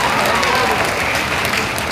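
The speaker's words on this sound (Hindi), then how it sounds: "ताली बजाकर स्वागत कीजिए।" A crowd at a political rally claps in a steady, dense wash of applause, loud and continuous throughout.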